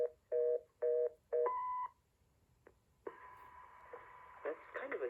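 A phone call plays through an early-1990s AT&T 1506 desk phone with cassette answering machine: several short two-tone beeps and a longer tone, then a steady hum and tones layered over low background noise and faint voices.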